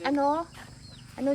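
Chickens cluck close by in two short bursts, separated by a quieter stretch of mixed background sound.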